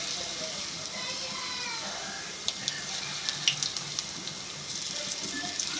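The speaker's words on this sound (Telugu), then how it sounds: "ఇవన్నీ కూడా రెడ్ కలర్ వచ్చేంత వరకు కూడా నూనెలో అయితే వేగాలి బాగా." Potato pieces frying in hot oil until they turn red, giving a steady broadband sizzling hiss with scattered small pops and crackles throughout.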